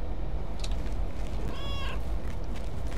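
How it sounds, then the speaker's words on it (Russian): Several cats meow in the video game Lake, one clear meow standing out mid-clip over a steady low background hum. "Вы посмотрите, сколько котиков."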